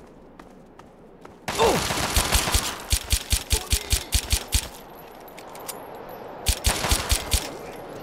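Rapid automatic gunfire in Fallout 3's Operation: Anchorage, loud close bursts of evenly spaced shots in two volleys with a short pause between, and a brief exclamation at the start.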